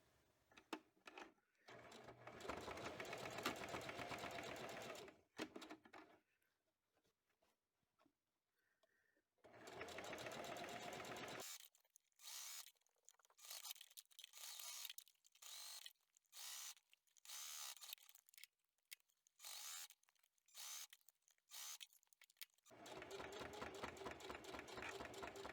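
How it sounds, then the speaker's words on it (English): A sewing machine stitches the casing around the top and bottom of a drawstring bag with a boxed bottom, running in loud bursts separated by short pauses. No one speaks. "I like to do one around the top and one around the bottom to hold the casing in place"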